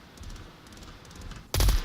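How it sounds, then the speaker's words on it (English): Gunfire in the VR shooter Onward during a competitive match, with quiet game ambience and faint distant pops before a loud, close burst of shots near the end. "Gunshots."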